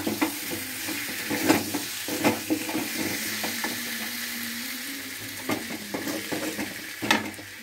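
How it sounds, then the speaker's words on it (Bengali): Potatoes stirred and fried in a pan of chicken masala: a steady close sizzle broken by repeated scraping and clinking strokes of a spoon against the pan, with no talking. "এবার আলুটা দিয়ে একটু নাড়াচাড়া করে নেব, কষিয়ে নেবো একটু।"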